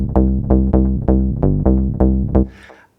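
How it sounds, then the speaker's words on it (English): A low synth bass line pulses in a repeating pattern of punchy plucked notes, loud and upfront, ending with a short noisy decay. "So there's like a low bass that comes in, sounds like this."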